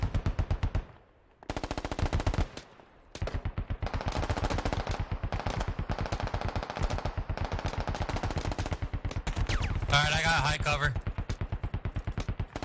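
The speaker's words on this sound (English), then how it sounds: "I hear an AK." Rapid automatic AK rifle fire in the video game Squad during an urban street battle, long dense bursts of loud close shots with brief pauses, while players talk over the shooting.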